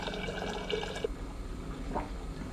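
Water trickles and splashes into a glass in a steady pour that shifts in tone as it fills, a few drips and gurgles standing out close by.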